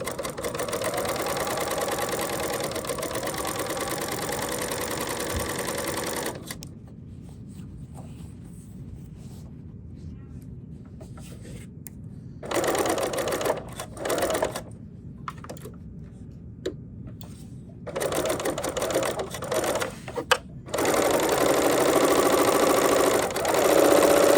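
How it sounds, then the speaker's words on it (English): A serger cuts and sews quilt fabric in one pass, its fast mechanical whirring running in bursts with quiet gaps between them, close and steady, alone without talk. "So now we're cutting and sewing at the same time."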